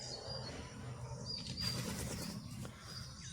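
A small bird flaps its wings as it flies off from a village garden, heard as a brief soft flutter over faint outdoor ambience and quiet chirps.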